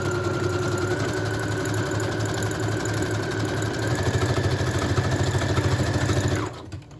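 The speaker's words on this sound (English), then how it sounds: "I know it's going to be loud with the sewing" A sewing machine stitching a vintage sewing-themed junk journal, a loud, close, steady mechanical whir with rapid rhythmic clatter that runs continuously before stopping abruptly near the end.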